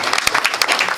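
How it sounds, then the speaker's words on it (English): Short burst of audience applause after a sports team is honored for a regional final win, dense clapping filling the whole moment. "So a round of applause for avenging that."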